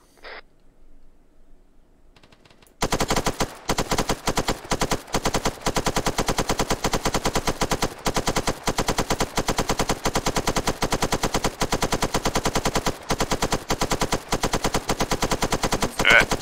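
Sustained automatic gunfire from the Arma 3 military video game, loud rapid bursts running nearly continuously after a few seconds of near-silence, with brief gaps between strings of shots.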